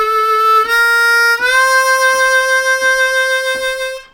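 A blues harmonica lick on a Bb harmonica, long sustained bent notes with wavering vibrato, loud and close, with no voice over it.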